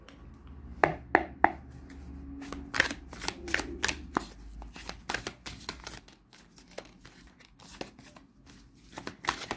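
Tarot cards are shuffled and handled close by in a quiet room, giving quick rhythmic flutters and slaps in bursts, with a low hum fading out midway.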